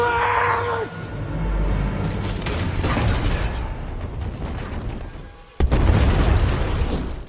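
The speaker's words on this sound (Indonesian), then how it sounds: "jembatan tersebut ternyata sudah dipasangi bom" A loud bomb blast erupts on a bridge in a film scene, with roaring rumble and mechanical clatter, a brief drop-off, then a second sudden heavy burst of noise near the end.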